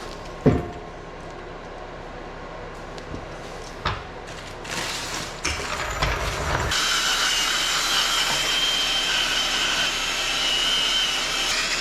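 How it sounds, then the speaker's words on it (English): Ratchet work pulling rusty bolts during a trailer hitch install, with scattered clicks and clanks early on, then a steady loud mechanical whir filling the second half. "we'll be pulling these bolts out."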